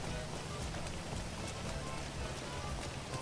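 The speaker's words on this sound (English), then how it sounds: "Wow, the rain looks pretty real, huh?" Steady in-game rain falls in GTA V Online, a constant dense patter with a low rumble beneath, filling the whole stretch evenly with no break.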